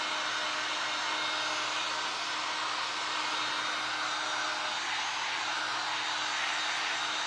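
A hair dryer dries paint on a craft shadow box, blowing as a loud, steady, continuous whoosh and hum throughout with no break.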